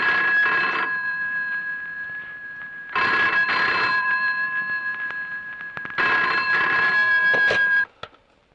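A telephone bell rings in three long bursts of about a second or more each, separated by pauses of silence, loud and close, with no one speaking.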